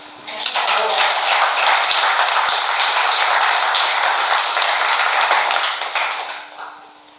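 An audience at a Tibetan youth gathering in Switzerland breaks into steady applause, a dense, sustained wash of clapping that lasts about five seconds before tapering off.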